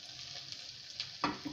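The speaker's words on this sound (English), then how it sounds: "Picking up that butter, frying away." Slices of Christmas cake fry in butter in a saucepan, giving a soft continuous sizzle with small crackles, then a louder burst of spitting near the end of the short stretch.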